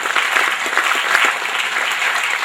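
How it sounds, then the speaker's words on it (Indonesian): Audience applause for Islamic boarding-school students at a mosque inauguration at Pondok Modern Gontor 5 in Banyuwangi, a steady, full patter of many hands clapping together. "Tepuk tangan untuk para santri semua."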